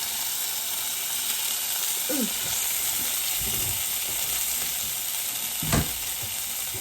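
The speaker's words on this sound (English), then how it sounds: "Now I'm going to return this pan to the stove on medium. Add the rest of this confit." Confit frying in a pan on a stovetop over medium heat, a steady close sizzle and hiss with a few faint stirring knocks and scrapes.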